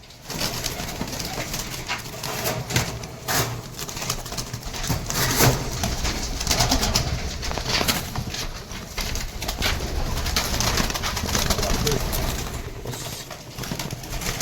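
Domestic pigeons, a mixed flock of homers and other breeds, coo steadily and close by amid soft rustling and occasional wing sounds, with no talk.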